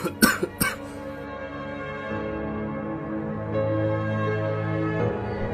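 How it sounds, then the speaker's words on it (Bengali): A sick, bedridden old man in a Bengali cartoon coughs three times in quick, loud succession, followed by sustained soft musical tones. "বাবা, মনে হচ্ছে তোমার কাশিটা আগের থেকে বেড়ে গেছে বাবা"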